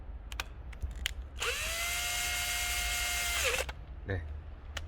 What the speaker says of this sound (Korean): 풀어줬던 나사를 꽂아 주시고 십자 드라이버나 전동 드릴로